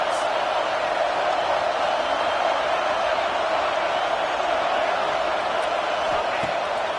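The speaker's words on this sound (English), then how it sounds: "This crowd trying to make life miserable for this offense." Football stadium crowd roaring against the offense, a steady broad wash of noise held loud and constant throughout, with no distinct cheers or breaks standing out.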